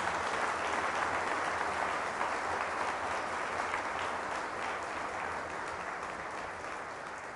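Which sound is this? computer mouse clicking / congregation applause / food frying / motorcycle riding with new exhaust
congregation applause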